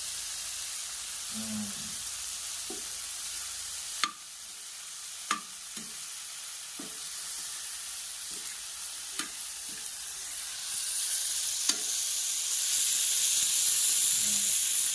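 Curry leaves and onions sauté in a pan for chicken tawa chilli fry, giving a steady sizzling hiss with occasional sharp spatula scrapes and taps, and the frying grows brighter near the end.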